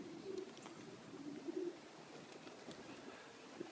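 Young pigeons in a loft coo softly and intermittently, faint and close against a quiet airy background, with no voices.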